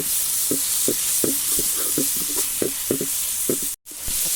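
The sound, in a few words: stirring onions frying in a clay pot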